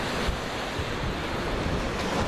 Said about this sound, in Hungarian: És itt a tenger.